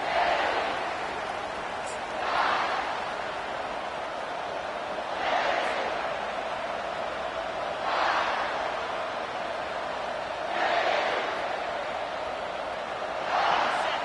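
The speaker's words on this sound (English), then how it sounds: "This crowd bringing the energy and noise early." A steady stadium crowd roar in an NCAA football video game fills the background, swelling into louder cheering bursts every few seconds.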